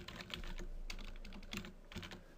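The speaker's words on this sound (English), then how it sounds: "So I'm going to type in snapvault primary" Keys clatter on a computer keyboard as a command is typed, a quick close run of soft clicks over a steady low hum.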